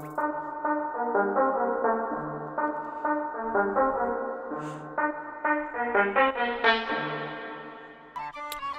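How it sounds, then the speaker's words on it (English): Lead synth melody in a trap-style beat made in FL Studio, fading in under automation as a bright tonal line of steady notes that grows fuller and louder, alone without voices. "And then I let the lead come in with automation as well"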